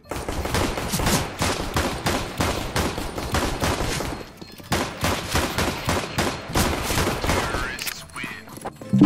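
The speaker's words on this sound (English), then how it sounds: "You guys shot each other a few times." Rapid bursts of automatic gunfire in the Counter-Strike: Global Offensive shooter, dense repeated volleys for about four seconds, a brief pause, then another sustained stretch of shots, loud and close.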